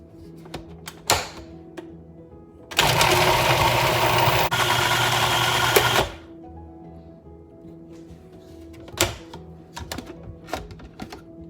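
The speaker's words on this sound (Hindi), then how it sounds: "यहाँ पर मैं प्याज ले रही हूँ और हरा धनिया, इसको ग्राइंड कर लेंगे" A kitchen mixer grinder blends onions and green coriander in a single loud whirring burst of about three seconds. Scattered clicks and knocks from handling the jar come before and after it.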